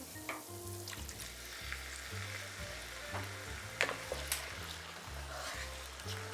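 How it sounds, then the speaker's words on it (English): Rice toasts in a pan for risotto, giving a steady close sizzle and crackle with occasional stirring scrapes, under a low background hum with no talk. "Once that rice starts to get a little bit golden brown"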